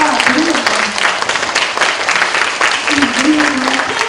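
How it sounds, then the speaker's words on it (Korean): A forum audience at a university youth lecture breaks into brisk applause, a dense clatter of many hands lasting a few seconds, with a voice talking over it. "박수가 드립니다"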